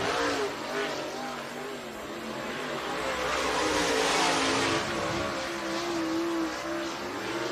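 Race car engines rumble and rise in a steady, broad roar as cars roll onto Needmore Speedway in Norman Park, Georgia at close range, the pitch drifting up and down without a break.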